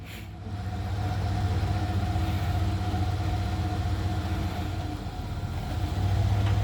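A manual-transmission truck's engine rumbles steadily and close by as a teenage learner lets the clutch out in first gear with no gas, the low drone holding fairly even throughout.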